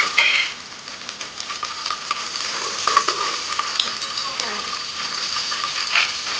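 Vegetables with fresh green peas frying in a pan for vegetable bath, a continuous bright sizzle with light stirring clatter, close and steady throughout.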